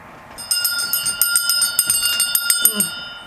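A bright bell rings rapidly in repeated quick strikes, close and fairly loud, after a quiet moment at the start.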